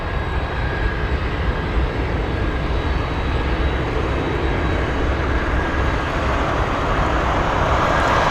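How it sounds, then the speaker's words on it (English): A Cargolux Boeing 747 cargo jet in the blue mask livery taxis at Anchorage airport, its steady engine roar loud and continuous throughout with no voices. "We have the mask Cargolux on the move."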